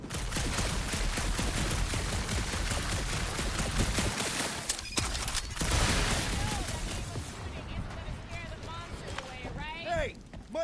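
Rapid, dense gunfire in a dark alien level of the video game Monster Planet, loud and sustained through most of the clip, thinning toward the end under other game effects while voices talk over it.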